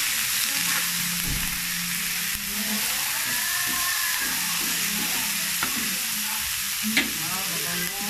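Sliced pork and broccoli frying in a hot pan, a loud steady sizzle with occasional scraping stirs and clatter close by, without talking.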